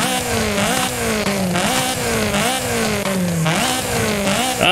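Supercharged car engine in Forza Horizon 5 revving loudly and continuously, pitch rising and falling through repeated throttle sweeps and gear changes, close and alone with no talk.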